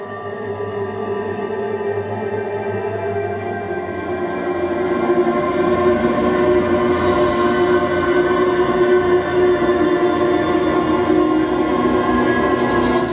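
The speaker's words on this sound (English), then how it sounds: "I watched the tube trains," A London Underground tube train rumbles past with a steady low mechanical roar, dense rail hum and faint screeching high overtones, growing louder midway and staying continuous throughout.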